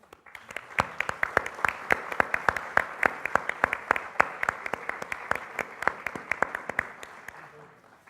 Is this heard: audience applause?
yes